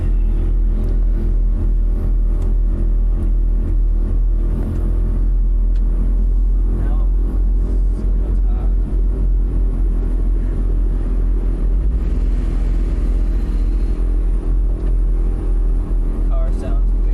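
A car drives on a road during storm chasing with a low, steady engine rumble and a weird-sounding engine, while people talk over it.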